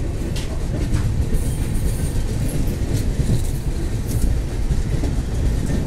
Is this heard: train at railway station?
yes